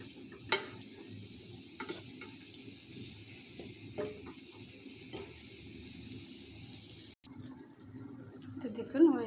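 Banana pitha cakes frying in a pan give a soft, steady sizzle with occasional light clicks and stirring knocks, quiet and close, fading out near the end.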